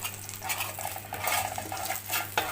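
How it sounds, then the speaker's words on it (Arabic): Chicken frying in native ghee in a pot gives a soft sizzle under repeated metal scraping and stirring of a utensil against the pot, fairly quiet and close, with no voices. "عشان نازل نحمر بقى الفرخه بتاعتنا. سمنه بلدي"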